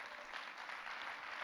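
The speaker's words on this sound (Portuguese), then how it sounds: "Dê uma salva de palmas ao Senhor." A church congregation claps in steady, dense applause that fills the short moment without pause, with no voices standing out above it.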